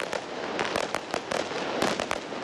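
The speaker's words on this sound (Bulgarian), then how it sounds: "Фойерверки осветиха небето и над Велико Търново" Fireworks burst over Veliko Tarnovo on New Year's Eve, a rapid irregular string of sharp cracks and pops, loud and fairly close, with no talking.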